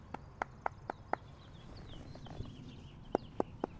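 Horse walking on a hard surface with evenly spaced hoof clops, a run of five steps, a pause, then three more as it comes to a stop, with faint birdsong behind.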